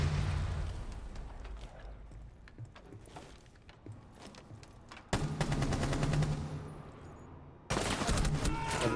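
Video game gunfire in bursts: rapid automatic fire and scattered shots, loud and close, with two sharp surges of dense shooting in the second half.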